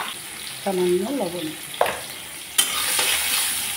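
Pumpkin pieces frying in oil left over from frying potatoes give a steady close sizzle, broken by a few spoon scrapes and clatters, while a voice speaks briefly.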